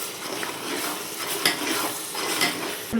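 Biryani gravy is stirred in a pot, a busy scraping and bubbling sizzle with utensil clinks against the metal, close and continuous for a few seconds.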